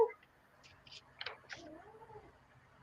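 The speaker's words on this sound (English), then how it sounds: "She's got a nice quiet mew." A cat gives a few quiet, short meows close by, soft and thin over a hushed indoor background, with no other sounds competing.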